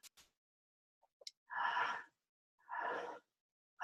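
Two slow, audible exhalations through the mouth during a guided breathing exercise, each about half a second, separated by a pause, faint and close with small clicks before them.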